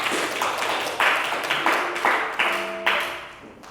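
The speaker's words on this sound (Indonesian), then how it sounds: "Tepuk tangan buat teman kita." A classroom gives a short round of applause for a classmate, a few bursts of clapping that come and go over several seconds and sit fairly close.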